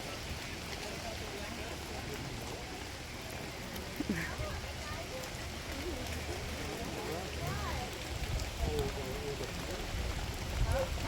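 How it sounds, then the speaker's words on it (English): Steady rain with wind at a cold outdoor market, a continuous hiss of drops pattering on nearby surfaces, with occasional faint bumps and voices mixed in at low level. "It is a very cold and rainy and windy day"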